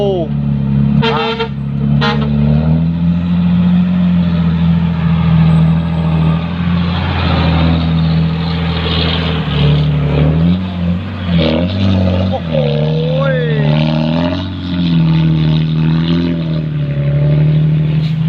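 A group of cars, including a non-turbo one, launch off one after another with loud, droning engines revving hard, a horn tooting at the start and voices talking underneath.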